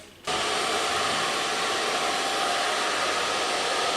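A hair dryer fitted with a diffuser, used to dry curly hair, switches on after a brief quiet moment and then runs as a loud, steady, close-up rushing whir with no break.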